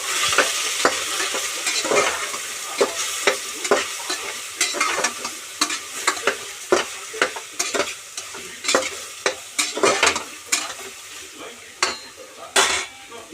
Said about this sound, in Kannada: ಬೋಟಿ ಹಾಕ್ತಾಯಿದ್ದೀನಿ ಬೋಟಿನ ಚೆನ್ನಾಗಿ ಫ್ರೈ ಮಾಡಬೇಕು